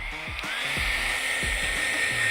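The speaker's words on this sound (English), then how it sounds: "what do we always have with us? A hair dryer." A hair dryer blows steadily with a constant whirring hum and airy rush, close by, while faint handling knocks sound underneath.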